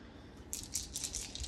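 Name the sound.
dice rattling for a board game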